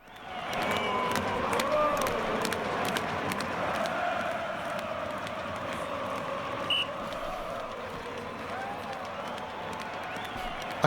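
A football stadium crowd in Fernbus Coach Simulator, heard from the team bus on the way to Dortmund, makes a continuous broad murmur and roar. A steady engine hum sits underneath it.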